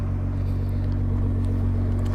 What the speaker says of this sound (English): This car sounds fantastic, especially with an aftermarket exhaust.